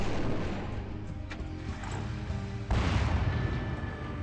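Artillery firing in the Warhammer Epic 40k strategy game Final Liberation: a rumbling battle bed with a sharp crack, then a heavy booming salvo that hits loud and keeps rolling to the end.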